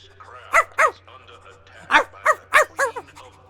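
A person imitates a small dog with a run of sharp, yappy barks, about six short bursts in two clusters, loud and close against a low steady hum.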